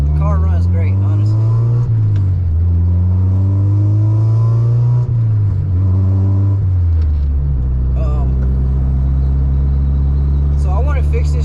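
A Honda EK hatchback engine revs hard under load while being driven, loud and close, climbing through the gears in repeated rising sweeps with brief drops between shifts, a voice talking over it.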